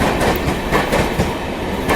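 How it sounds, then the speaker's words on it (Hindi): Shatabdi Express train passing Sahibabad railway station in India, heard up close as a loud, continuous roar of rolling wheels and rattling carriages with rhythmic clattering, filling the whole stretch without pause. "इस वक्त आप देख रहे हैं शताब्दी साहिबाबाद रेलवे स्टेशन क्रॉस कर रही है"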